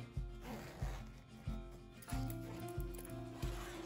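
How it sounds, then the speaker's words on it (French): Zipper being pulled open on a fabric bum bag during sewing, heard as several short ratcheting rasps in quick succession, close and clear. "Pour ça, on peut ouvrir à nouveau notre fermeture."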